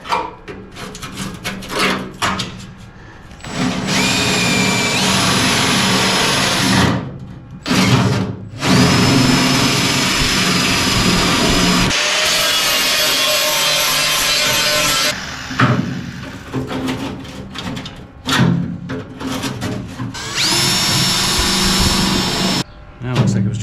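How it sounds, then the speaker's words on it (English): A power drill whines loudly in several long bursts with short pauses between, drilling out spot welds in a car door's metal, and a voice speaks briefly in the gaps. "Looks like I got a couple spots I got to drill out."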